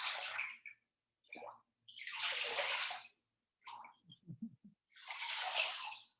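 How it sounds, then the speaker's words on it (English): Broccoli dipped and swished in a bowl of water gives bursts of splashing and sloshing, with brief gaps and a few small drips between the washes, close by and fairly loud. "So I have a bowl of water here. I'm just gonna dip the."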